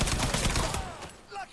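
Gunfire in Mafia III, a rapid burst of loud shots packed close together, tailing off quickly, with no talk over it.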